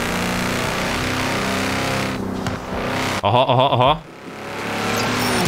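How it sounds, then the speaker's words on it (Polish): Tractor engine in Forza Horizon 4 droning loudly and steadily, dropping out briefly, then returning with a warbling rev; a man exclaims over it. "Traktor. Jak to brzmi, ty?"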